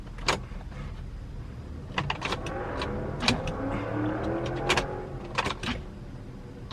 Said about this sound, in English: As soon as I hit it now, all it does is it just clicks and dies.